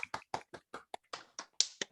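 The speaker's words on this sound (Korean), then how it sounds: "정말 멋진 발표를 보여준 1조 학생들에게 큰 박수 쳐주도록 합시다" Students in a classroom presentation setting give a short round of scattered clapping, about a dozen distinct, crisp hand claps spaced fairly evenly, close and alone.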